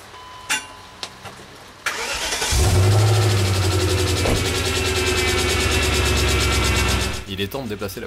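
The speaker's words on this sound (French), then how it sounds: "On entend bien la pompe de direction assistée que j'ai remplie sans la purger pour le moment." A BMW 535i starts up after a few clicks, then its engine runs steadily with a low hum, while the power steering pump, filled but not yet bled, whines throughout before the idle drops off near the end.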